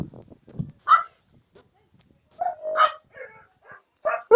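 Hungry dogs give short barks and whimpers in bursts separated by quiet gaps, fairly close by, with a person talking at times.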